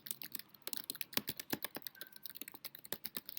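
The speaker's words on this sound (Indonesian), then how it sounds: "Contoh Ustazah mengetik sesuatu" Rapid, uneven keystrokes tapping on a computer keyboard while typing in a word processor, close and clear with no talking, a dense burst of clicks and a few louder key strikes.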